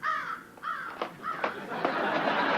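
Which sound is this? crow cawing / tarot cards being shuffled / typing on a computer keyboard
crow cawing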